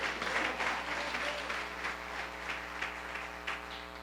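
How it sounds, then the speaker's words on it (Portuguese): A church congregation applauds at a Nova Vida service in Catete, with steady, dense clapping that holds at an even level for the whole stretch. No one speaks over it. "Dá uma salva de palmas ao Senhor aí."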